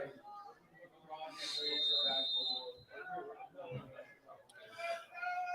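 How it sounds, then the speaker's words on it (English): At a high school football game, a referee's whistle gives a sharp, sustained shrill blast at kickoff. It rises over crowd noise and a commentator's voice, and a brief second chirp follows later. "there's a whistle blown"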